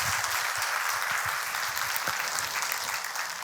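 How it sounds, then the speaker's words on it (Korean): A church congregation applauds steadily in a dense, continuous wash of clapping that holds at an even level throughout, with no voices standing out. "다시 한번 박수로."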